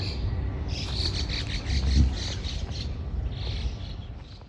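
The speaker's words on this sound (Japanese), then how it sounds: "鳥がいっぱいですね。" Birds chirping and insects trilling in a forest park in Yokohama (Negishi Forest Park), a continuous soft wash of small calls over a low, rumbling outdoor background.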